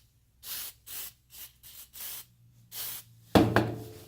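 Lubricant sprayed from an aerosol can inside an old ratchet, seven short hissing bursts in a steady rhythm, followed by a louder rattling clatter of metal at the end, close and without talk.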